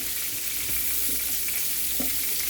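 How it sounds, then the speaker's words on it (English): Shrimp frying in a pan hiss and sizzle steadily, with a few soft stirring knocks and crackles close by and no talking. "Go ahead and drop my shrimp in."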